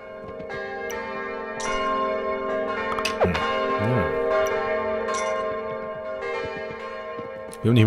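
Church bells peal through a medieval-style kingdom game, Kingdom: New Lands, ringing in a steady layered chime over a sustained musical bed, with bright strikes repeating across the whole stretch.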